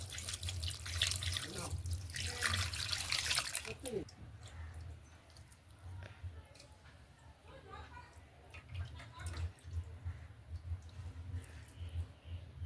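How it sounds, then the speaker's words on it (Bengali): Flattened rice (chira) being washed under running tap water in a home kitchen, a loud broadband water rush for the first four seconds, then softer dripping and splashing as the rice is handled, with voices talking over it. "জল দিয়ে আগে প্রথমে চিড়েটাকে ধোও ভালো করে"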